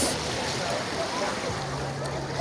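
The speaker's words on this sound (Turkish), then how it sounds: "Su şu anda ayağımıza kadar dalgalar da geliyor." Sea waves wash up the sand at a beach in Ayvalık, giving a steady, close broadband rush of surf and water that continues without a break.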